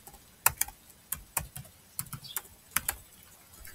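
Typing on a computer keyboard while writing a C program, with irregular clusters of crisp, close key clicks separated by short pauses.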